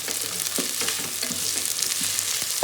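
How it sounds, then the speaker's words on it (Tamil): Onions sautéing to brown in a Geek Robo Cook electric cooker, a steady close sizzle with scattered stirring scrapes and taps, no voices. "இப்போ வெங்காயம் நல்லா வதங்கிடுச்சு."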